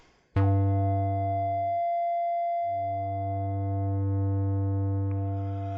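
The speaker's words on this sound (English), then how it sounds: "So now you'll hear it come in, then drop down to a sustain level, and then go away a little bit" Synthesizer tone from Reason with a sustain envelope: a loud, harmonically rich sustained note that cuts out briefly, then returns and holds steadily at a similar level, alone with no voices.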